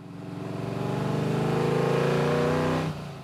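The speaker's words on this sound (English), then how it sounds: "There's nothing like the rumble of a V8." Deep V8 car engine rumbling loudly and steadily close by with a throaty, pulsing rhythm that swells slightly, then cuts off abruptly near the end.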